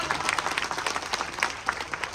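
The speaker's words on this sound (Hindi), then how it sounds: "जोरदार तालियों से स्वागत।" An outdoor mahapanchayat crowd in Sawai Madhopur, gathered to protest the Dungri dam, welcomes the chairman with applause. Individual claps stand out as a fairly loud, uneven burst, and murmuring voices sit beneath it.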